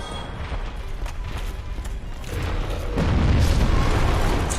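An explosion in Dark Souls Remastered during a boss fight booms and rumbles, swelling in the second half into a loud, heavy low roar after a stretch of clattering combat noise.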